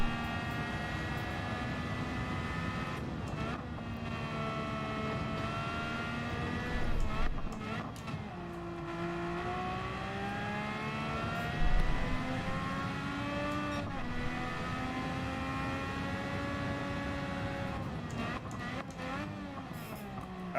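A race car engine at full throttle in Gran Turismo 7 holds a high, sustained whine that climbs and drops through gear changes, with brief dips and surges as the car brakes and accelerates again.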